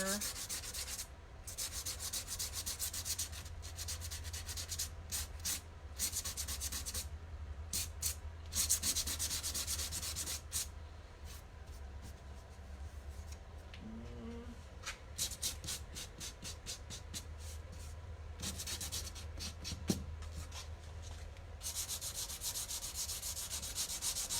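Fine grit sandpaper rubs back and forth over painted furniture in a long, steady run of close scratchy strokes, pausing briefly now and then before the sanding resumes.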